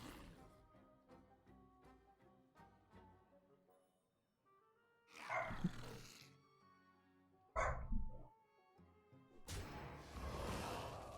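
A dog lets out a few loud, sudden barks in bursts over quiet background game music and chimes, close to the microphone, with short gaps between the outbursts.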